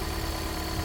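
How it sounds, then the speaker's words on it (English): A 2020 Toyota C-HR four-cylinder engine with a CVT idles just after an oil change, giving a steady, fairly loud low hum with a faint whine above it and no talking. "So for a 4-cylinder CVT, it's pretty noisy"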